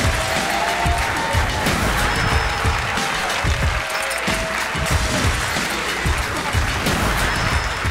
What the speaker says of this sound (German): Einen Riesenapplaus für Juri von Stavenhagen